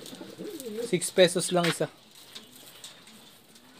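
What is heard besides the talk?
pigeons cooing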